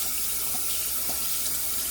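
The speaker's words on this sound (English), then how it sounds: "Rinsing out that tub." Water runs steadily from a tap into a sink while a 5-ounce Sterling shaving soap tub is rinsed out, a continuous close splashing stream with no talk.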